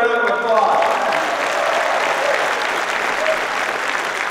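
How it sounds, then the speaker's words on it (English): Audience applause at a UCLA Football National Signing Day event at Pauley Pavilion, a dense, steady wash of clapping from a large crowd that carries on through the whole stretch with some voices mixed in. "So let's give them a round of applause."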